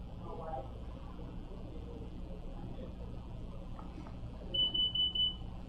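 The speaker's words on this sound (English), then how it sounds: "I just heard 4 beeps from the F5" Four short, evenly spaced electronic beeps from a DigiTrak F5 drill locator receiver sound close and clear above a steady background hum during a data log upload to a PC.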